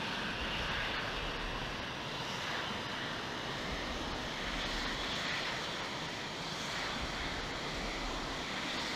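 Simulated jet aircraft engine in flight in the Falcon 4 Allied Force flight game, a steady, fairly faint broadband roar with a low rumble that holds unchanged throughout.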